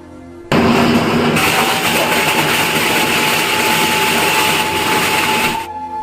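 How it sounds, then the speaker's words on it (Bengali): Loud, steady machine roar from a plastic bottle cutting machine starts abruptly and holds nearly unchanged for about five seconds with a constant whine, then drops away, with no talking. "মেশিনে এত আওয়াজ যে কিছু শোনা যায় না তো বিশ্বাস যদি না করো তাহলে আমি তোমার মেশিনের আওয়াজটাকে শুনে দিচ্ছি"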